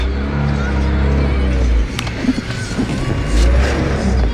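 A Range Rover P38 stuck off road at Horseshoe Pass in Wales revs loudly while its wheels churn and dig into the ground, with a close, rough engine roar that surges and drops under some nearby voices.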